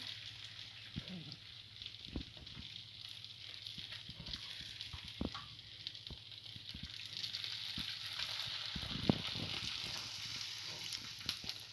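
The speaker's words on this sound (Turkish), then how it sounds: "Hemen soğuk şerbetini üzerine döküyorum." Soft crackling sizzle with scattered pops and ticks as cold syrup is poured over hot baklava, steady and close, with no talking.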